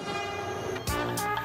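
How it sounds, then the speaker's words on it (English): A train departs a station on a high-speed rail network: a sustained horn-like tone is followed by louder broadband rushing bursts as the train gets under way, with no speech. "It's 1258, the train leaves."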